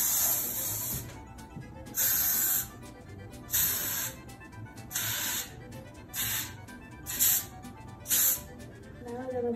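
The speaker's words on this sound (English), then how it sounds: "Now let's spray our pan." Short hissing bursts of aerosol cooking spray onto a baking pan, about seven in an irregular rhythm, close by, with faint background noise between them.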